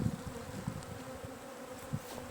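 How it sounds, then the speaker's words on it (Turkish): Honeybees robbing a weakened hive buzz in a dense, steady drone close up, with individual wingbeats flickering in and out and no voices. "Yahut da başka arılar da geliyor yağmaya."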